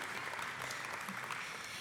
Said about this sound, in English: You can clap for that, that's cool.